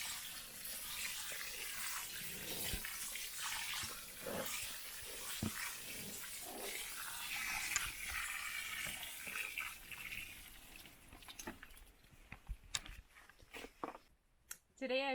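Water from a two-gallon load pours and splashes steadily onto the soil around a fruit tree for several seconds, close by, then trickles off into quieter drips and faint rustling.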